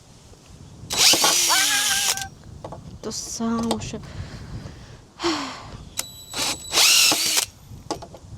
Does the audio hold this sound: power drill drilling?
yes